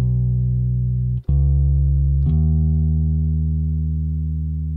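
Sustained synthetic bass notes from the Moto bass plug-in, deep and loud, with three long held tones separated by two brief clicky note changes.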